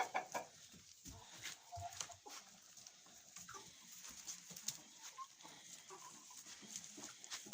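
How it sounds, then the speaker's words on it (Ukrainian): Hens in a henhouse clucking softly and intermittently, faint and close, with scattered scratching and pecking sounds in the quiet coop and no talk. "Ось у попелі купаються курочки."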